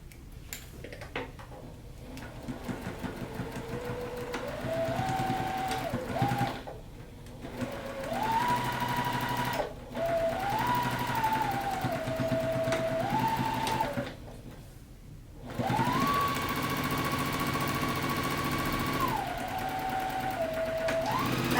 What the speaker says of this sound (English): Now we're going to sew all around 4 edges, and where you do have that overlap, you want to back tack and really secure that fabric in place.